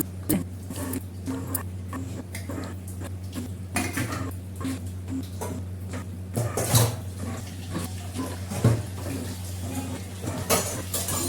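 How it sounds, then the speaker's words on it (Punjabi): Tea dishes and kitchen utensils being washed by hand, with steady clinks and clatters of pots, cups and cutlery close by over a low background hum, no talking. "ਇਹ ਕੁਝ ਚਾਹ ਵਾਲੇ ਸੀ ਭਾਂਡੇ"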